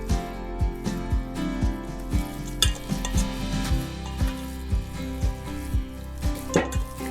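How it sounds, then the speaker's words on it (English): Rhythmic, regular mixing strokes through ground turkey with cheese and seasoning, a steady series of soft squishing thumps against a bowl, close and clear with no talking. "really mix the turkey and the cheese and the seasoning"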